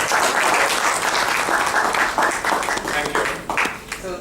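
Audience applause fills the room, a dense, steady clapping that carries on throughout at close range, with no clear voices over it.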